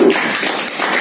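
Live audience at a motivational speaking event applauds a man named Abdul Mannan, a dense, steady wash of clapping that fills the whole moment at moderate loudness.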